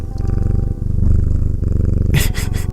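A cat purrs loudly and close up, a continuous rumbling purr with steady rhythmic breaths, ending with a few brief higher rustling sounds.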